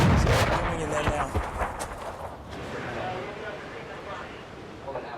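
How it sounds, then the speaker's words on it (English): Artillery fire on a compound in Afghanistan, opening with heavy booming blasts and rumble that fade into a prolonged rolling roar, heard from a distance. "Here comes the artillery."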